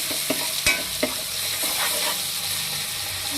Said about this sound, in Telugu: ఫస్ట్ వేసుకున్నాం అల్లం పేస్ట్ పచ్చివాసన పోయేదాకా మంచిగా వేయించుకోవాలి